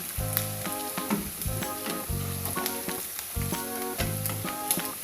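Catfish deep fries in hot oil, a loud, close, crackling sizzle broken by rhythmic scraping stirs about every second, with no voices over it.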